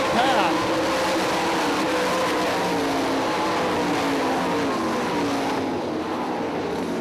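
Sprint cars racing at Hartford Speedway in Michigan, a dirt oval: a dense, continuous roar of several engines at full throttle, heard throughout under a race announcer's commentary.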